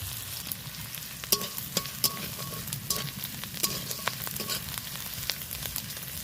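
Onions frying in a little oil in a pan give a bright, continuous sizzle, punctuated by regular light clicks and scrapes of stirring, close and without any voices.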